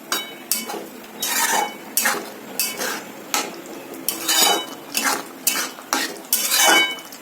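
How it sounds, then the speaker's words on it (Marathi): Tamarind pulp and jaggery being stirred into sambar in a metal pot, with a spoon scraping and clinking against the sides in about a dozen rhythmic, close, fairly loud strokes, no talking. "आता याच्यामध्ये हा बारीक केलेला चिंचेचा कोळ टाकूया, हा थोडासा गूळ टाकूया, हे चांगलं मिक्स करून घेऊया।"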